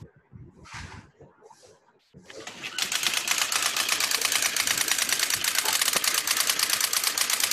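An impact printer with a typewriter-like action runs loudly, a rapid continuous stream of mechanical hammering that kicks in after a few seconds of scattered clicks and shuffling.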